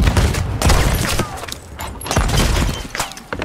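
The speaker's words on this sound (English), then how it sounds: "Who's shooting us exactly?" Cannon fire from a rival ship in the Sea of Thieves video game, a loud cluster of booming, cracking shots and thuds over a few seconds, with a voice briefly heard among them.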